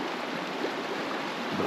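Rapids on the Salmon River in extreme cold (-15°C) rush steadily as a broad, even wash of turbulent water, close and constant with no voices.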